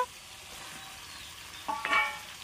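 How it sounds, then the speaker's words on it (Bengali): Taro and potatoes sautéed in a pan, with a soft, continuous frying hiss that stays faint. A brief louder scrape and stir comes near the end. "এবারে আমি কচুগুলো আলুর মধ্যে দিয়ে দেবো,"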